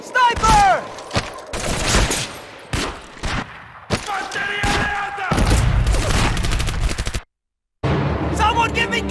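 Dense gunfire in the Wii game Medal of Honor: Vanguard, loud bursts and rapid shots layered with game voices and effects, broken by a brief silent gap near the end.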